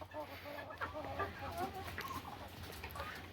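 Silkie chickens with trimmed crests clucking on a farm, a few close soft clucks and murmurs in a quiet yard, with faint voices in the background.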